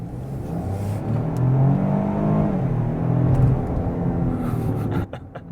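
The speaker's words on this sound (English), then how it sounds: "It makes such great noises, which you're going to have to listen to the engine a lot" A 2023 Ford Escape Active with a 3-cylinder EcoBoost engine revs up under acceleration, a throaty rising rumble that swells and holds for several seconds before dropping away abruptly.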